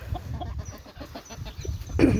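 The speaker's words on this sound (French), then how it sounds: "Donc je vous montre un peu toutes les poules." Hens in a backyard poultry flock cluck in soft, scattered bursts against a steady outdoor background, with one louder, closer squawk near the end and no talk.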